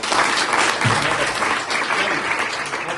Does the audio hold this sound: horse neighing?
no